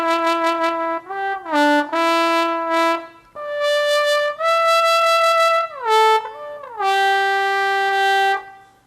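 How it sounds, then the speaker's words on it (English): Phrases on the SWAM euphonium virtual instrument by Audio Modeling, a run of sustained brass notes with smooth glides between pitches, played alone and loud, starting with a few short repeated tones before longer held lines. "the euphonium sounds like this"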